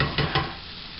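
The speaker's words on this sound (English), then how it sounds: "Kind of get the onions cooked separate, nice and good, and throw these onions right into it." Onions fry in a pan with Spam, giving a brief, close sizzle with a couple of soft stirring strokes.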